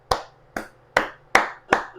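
Five slow, deliberate hand claps, close and distinct, evenly spaced with brief ringing between them, in honor of the author Fernando Sabino.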